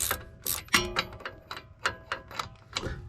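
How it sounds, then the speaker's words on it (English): A hand ratchet with a 17mm socket loosens a bolt while upgrading brake rotors, giving a close series of sharp clicking strokes in an uneven rhythm, about eight bursts with brief pauses between them. "Stick that on there and just loosen it up."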